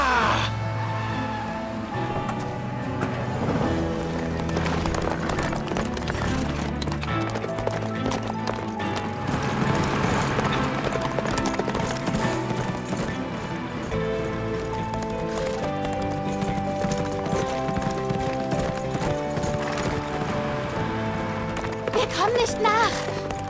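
Horse hooves clip-clop at a gallop through a dense, busy mix of music and voices, steady rhythmic thuds continuing for a long stretch.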